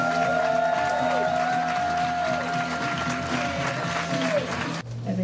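A comedy club crowd gives loud, continuous applause as comedian Beth Stelling is introduced, with music tones sounding beneath the clapping and the applause cutting off sharply near the end.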